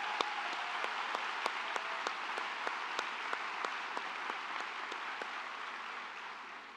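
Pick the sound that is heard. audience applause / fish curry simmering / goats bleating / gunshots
audience applause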